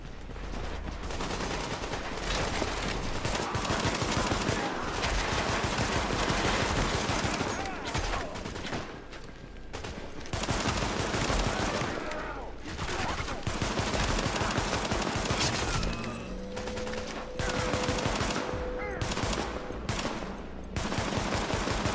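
Rapid bursts of automatic gunfire crackle almost continuously through a video game firefight as supplies come under attack, dense and loud with only brief lulls between volleys.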